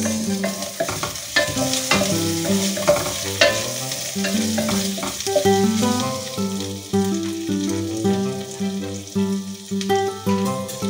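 Pork sautéing in a pot for pork nilaga, a loud continuous sizzle with frequent metal stirring clinks and scrapes close by, steady throughout with no speech.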